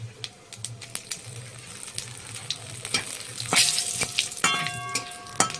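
Cumin, bay leaf, dry red chilli, whole cardamom, cloves and cinnamon crackle in hot oil for a vegetarian paneer dish, a close, busy sizzle with sharp popping spatters throughout and a stirring scrape near the end.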